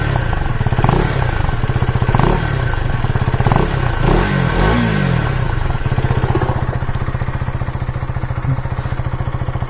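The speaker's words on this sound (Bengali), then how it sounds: "নর্মালি গাইস এরকম আওয়াজ দেবে, ঠিক আছে, ইঞ্জিন যখন স্টার্ট থাকবে। এবারে র্যাপ করলে এরকম আওয়াজ দেবে।" A 2025 KTM Duke 250 third-generation motorcycle engine runs close by, a loud steady idle thrum broken by several sharp revs that rise and fall before settling back to a rapid, even idle.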